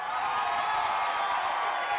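A crowd at a televised singing show applauds for a singer, a dense, steady wash of clapping and cheering with no break.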